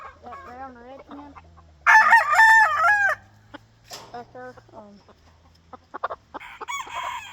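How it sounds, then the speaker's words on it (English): Brown red game hens and other game fowl cluck and squawk nearby in short, uneven bursts, one loud, harsh call standing out, with someone speaking briefly in the background. "here's another hen I got last year. I actually got that brown red hen"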